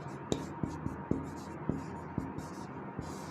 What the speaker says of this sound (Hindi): निष्कर्ष लिखता हूँ